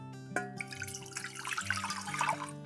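Water poured into a cooking pot in a kitchen, about one and a half cups, a steady splashing and trickling stream heard close and fairly quiet, with no talk.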